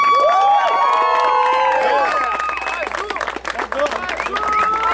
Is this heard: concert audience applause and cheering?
yes